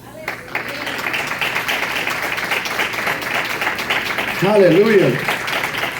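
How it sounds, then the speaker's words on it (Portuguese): A church congregation applauds during a worship service, with brisk clapping running underneath while a voice calls out over it. "Aplauda Jesus."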